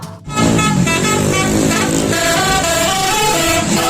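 A red toy bus's telolet horn honks loudly and continuously in a musical, multi-tone melody, with no talking.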